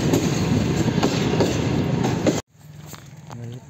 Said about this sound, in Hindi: ट्रेन जा रही है, रात को नजर सही आ रही